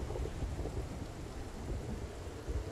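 Heavy rain and a low thunder rumble in a video game set in Louisville, a steady dense downpour filling the whole short stretch with no voices.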